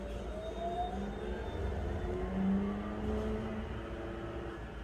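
A city bus engine hums steadily from inside the empty first bus of the day in China, a low continuous drone with gentle rises in pitch as it accelerates, no talking.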